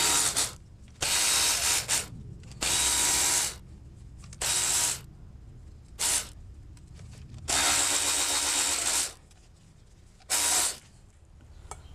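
A hand ratchet spins off a 10 millimeter bolt on a 2019 Honda Accord during fuel injector work, sounding as several loud, close bursts of rapid pawl clicking separated by short pauses.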